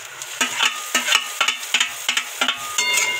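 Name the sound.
tomatoes added to frying onions for pohe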